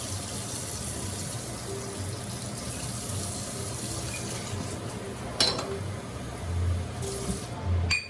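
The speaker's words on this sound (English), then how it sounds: "1 cup of regular water." Tap water pours steadily into a measuring cup for fritter batter, a soft continuous splash with a few light clinks of the cup near the end.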